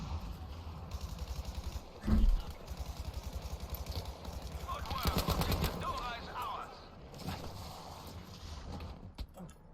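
Distant semi-automatic rifle fire in a Battlefield 5 match, rapid repeated cracks rolling on through a busy game soundscape with a louder thump early on.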